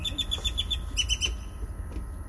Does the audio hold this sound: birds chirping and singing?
yes